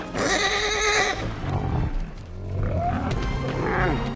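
A horse in the 1989 film Star Trek V: The Final Frontier lets out two loud, shrill whinnies separated by a rough, noisy stretch, close and dramatic, with no talk over it.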